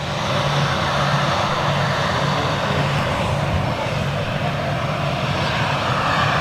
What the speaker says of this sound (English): Callum, IL-76 flying over Rochdale now.